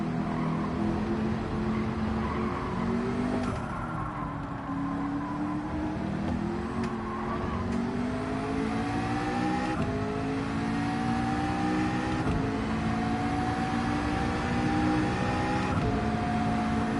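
A Ferrari race car engine in Gran Turismo 7 revs and accelerates steadily, its pitch rising through gear changes with a sustained, moderately loud whine and no talk.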